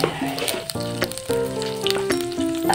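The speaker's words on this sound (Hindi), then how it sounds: "तो ये हमने डाला तड़के का आइटम," Tempering spices sizzle and crackle in hot oil in a home kitchen as the first step of a chicken fry, a steady close frying hiss under faint tonal background sound, with no talking.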